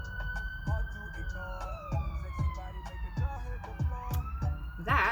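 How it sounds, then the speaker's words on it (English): An ambulance siren wails outside at night, its tone sliding and fading as it passes, with a faint rhythmic tapping beneath and a brief louder burst near the end. "probably an ambulance"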